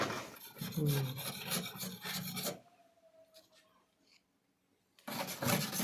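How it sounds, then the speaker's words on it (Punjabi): Caked dirt being scraped off a washing machine part during a full service, a loud continuous rasping scrape for a few seconds, then a quiet pause with faint clinks, before the harsh scraping resumes. "ਆ ਦੇਖੋ ਆਪਾਂ ਇਹਨੂੰ ਖੁਰਚ ਕੇ ਲਾਣੇ ਆ"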